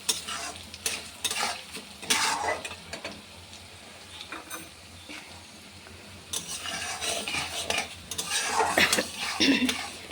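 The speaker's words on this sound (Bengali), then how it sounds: "তারপর ছাঁচি কুমড়োটা দিয়ে দেবো" Ash gourd and lentils stir-fried in a pan for a vegetarian ghonto, sizzling steadily while a metal spatula scrapes and clanks against the pan in irregular bursts, close by, with no talking.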